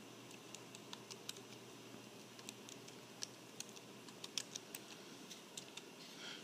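Quiet, irregular clicks of keys as a command is typed on a computer keyboard, a loose patter of soft taps in a still room.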